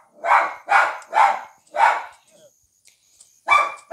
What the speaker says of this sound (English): Sorry, guys. If my dog is loud, he always is loud.